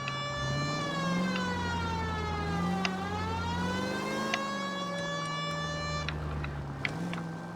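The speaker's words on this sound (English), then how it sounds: "You know we've got a siren, Phelps." A police car siren in the L.A. Noire video game wails in a steady rising-and-falling sweep, loud and continuous with no voices over it.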